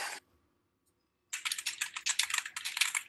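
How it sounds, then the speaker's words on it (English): Rapid computer keyboard typing during a StarCraft-style race match stream, a dense run of clicks and key taps that starts after a brief tap and a second of silence, fairly close and loud. "We got some typing going on."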